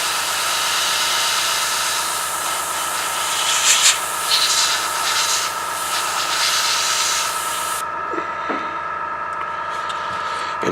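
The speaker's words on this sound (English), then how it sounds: "And of course the compressor's going" Air blasts from a compressor-fed nozzle to dry paint on a scale model, a loud steady broadband hiss for about eight seconds that cuts off, leaving a fainter background hum and small clicks.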